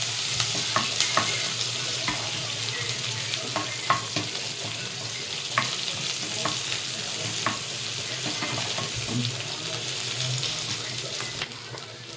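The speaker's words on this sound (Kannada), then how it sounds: "ಚೆನ್ನಾಗಿ ಫ್ರೈ ಮಾಡಿಕೊಂಡು ಸ್ವಲ್ಪ ಮಾಡ್ಕೋಬೇಕು." Masala frying for mutton head curry, a steady close sizzle broken by sharp clicks and scrapes of stirring across the whole stretch, with no voices.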